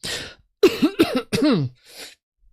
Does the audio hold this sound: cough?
yes